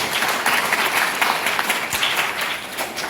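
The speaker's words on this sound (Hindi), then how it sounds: "हम एक दूसरे को ताली मार के धन्यवाद देंगे" Church congregation applauding together at a St. James feast celebration, a dense, steady wash of many hands clapping throughout with no pause, fairly loud and close.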